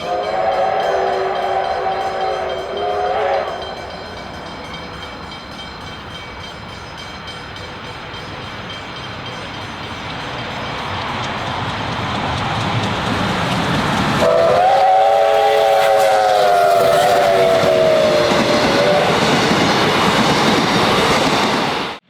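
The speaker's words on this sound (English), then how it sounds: "riding at the back of this 350 metre long train" A 350-metre-long passenger train rumbles steadily along the rails near Melbourne, Australia, for a long stretch, its horn sounding briefly early on and again in a longer blast later.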